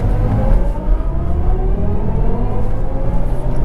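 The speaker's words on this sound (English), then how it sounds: "testing acceleration" A 2023 electric car, either a BMW i4 eDrive35 or a Tesla Model 3 Standard Range, accelerating hard in a test run, with a steady loud cabin rumble and a rising motor whine that climbs continuously throughout.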